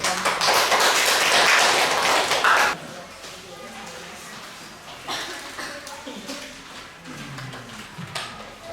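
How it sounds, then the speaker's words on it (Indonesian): Classroom pupils clapping for a group of classmates returning to their seats, a loud burst of dense claps that cuts off abruptly, followed by quieter room noise and talk. "kasih tepuk tangan untuk"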